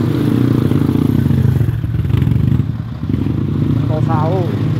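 A motorcycle ride through a hot outdoor street, with a steady mid-pitched engine drone and road rumble running throughout, a brief dip near the middle, and a voice talking over it.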